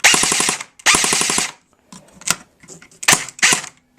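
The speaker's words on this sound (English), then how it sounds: "all the way down, semi-auto, up, full auto." Two rapid full-auto bursts from a CYMA CM.028 AK-47 electric airsoft rifle rattle close and loud, followed by a few scattered single clicks and mechanical handling noises.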